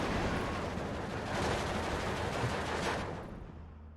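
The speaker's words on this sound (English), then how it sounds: "There's so many artillery pieces firing at it." Massed artillery firing in the Steel Division 2 wartime strategy game, a dense rumble of overlapping distant blasts that holds steady and then fades away near the end.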